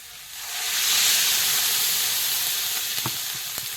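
Water poured into a pan of sizzling vegetable curry with papaya sets off a loud, steady hiss that swells within the first second, then holds, with a couple of sharp crackles near the end and no voices.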